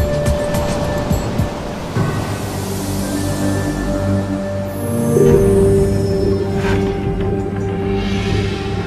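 Ocean waves and surf from a big swell at an uncrowded surf spot, a steady, full wash of breaking water that runs the whole time and swells louder around the middle.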